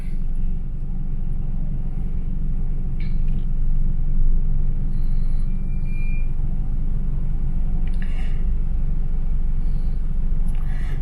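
Steady low rumble of a car driving through slowed city traffic in Cebu City, with a few faint distant beeps and clicks over the continuous engine and road noise; no talking.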